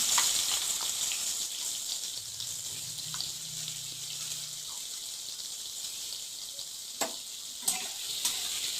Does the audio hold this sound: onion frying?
yes